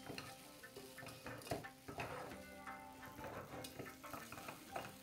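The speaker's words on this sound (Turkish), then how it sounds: "Orta hararetli ateşte pirincimizi kavuruyoruz." Rice toasting over medium heat in a pot with butter and olive oil for a carrot and raisin pilaf: a steady faint sizzle with scraping, stirring clicks of a spoon against the pot, close and continuous.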